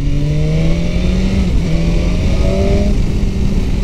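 A Honda CBR1000RR sport motorcycle pulls onto a highway, its engine droning loud and close with rising and falling revving tones through gear changes, a steady roar throughout without speech.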